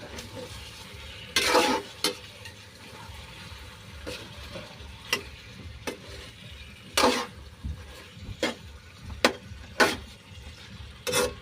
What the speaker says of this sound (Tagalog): Haluin ko muna bago ko takpan.